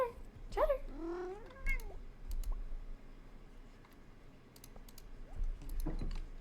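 A pet cat lets out a few short, close meows early on during a Stardew Valley gaming session, followed by soft keyboard clicking and faint background noise.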